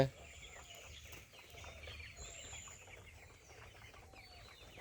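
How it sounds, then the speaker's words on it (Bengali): Chickens cluck softly while pecking at feed in a backyard coop, a low continuous murmur of hen calls with occasional wing flutters, faint and steady throughout. "মুরগি বড় হয়েছে মুরগি খাবার খাইতেছে"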